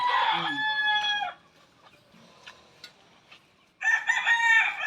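Fighting cocks (stags) at a Philippine gamefowl farm crow loudly nearby, one long crow at the start and another after a quiet pause of under three seconds, with faint scattered farm noise between.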